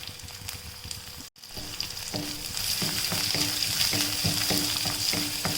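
Steady sizzling of large onions frying in a pan, a brief dropout early on, then a fuller crackle with occasional stirring clicks.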